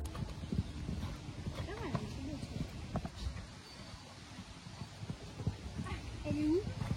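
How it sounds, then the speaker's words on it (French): A horse gallops during a show-jumping lesson. Rhythmic hoofbeats sound at mid-distance, a voice talks over them, and a brief whinny-like cry comes through. "j'ai préféré me mettre en galop en équilibre"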